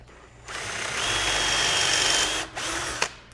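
A cordless power drill spins up and cuts through wood guided by a jig, a sustained close whine lasting nearly two seconds, then a brief stop, a short restart and a final clack.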